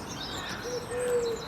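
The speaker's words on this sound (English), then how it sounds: "You've got a pigeon saying hello" Pigeon cooing beside a canal, a single soft low hooting call rising briefly over outdoor background noise.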